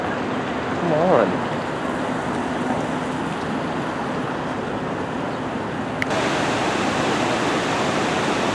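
Rushing water of the waterfall at Falls Park on the Reedy River in Greenville, a steady broadband roar throughout, with a brief voice near the start and a small click later.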